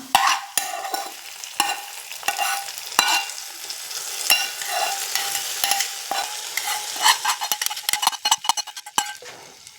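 A ghee-fried mixture is tipped into moong dal payasam with a crackling sizzle, accompanied by repeated sharp metallic clinks and scrapes of a spoon against the pan, growing busier toward the end.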